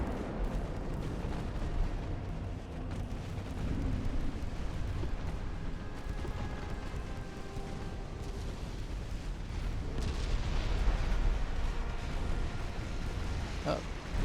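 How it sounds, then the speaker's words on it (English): A naval battle in the dreadnought-era game Ultimate Admiral: Dreadnoughts rumbles with a continuous roar of heavy gunfire and explosions, swelling louder toward the end, as a voice talks over it. "Our ship took a hit."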